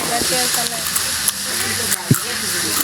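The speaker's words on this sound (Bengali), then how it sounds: "দেখেন কি সুন্দর করে শাক ভাজি করছে" Leafy greens (saag) frying in a pan make a dense, steady sizzle with occasional stirring scrapes, heard close while a person talks over it.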